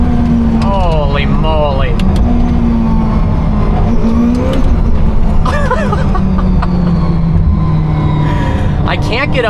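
A Czinger 21C hypercar accelerates hard through a tunnel, a loud, sustained engine roar climbing in pitch through repeated gear shifts, with a driver's excited voice and laughter over it.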